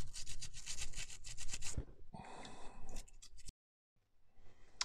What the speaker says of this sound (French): on en a fini avec notre nettoyage à la brosse